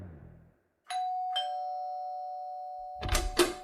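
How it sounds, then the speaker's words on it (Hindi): A two-tone doorbell chimes once, its ding-dong tones lingering and ringing out, then a quick burst of knocking or movement right at the door. "और बस बजा दी घंटी।"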